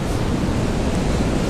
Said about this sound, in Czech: Je tam prostě vlny.